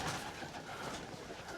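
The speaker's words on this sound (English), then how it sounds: "Y'all hear them old laughing doves?" Laughing doves coo softly on a farm in the morning, faint and somewhat distant against quiet outdoor background noise.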